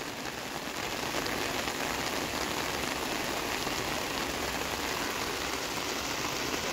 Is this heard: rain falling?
yes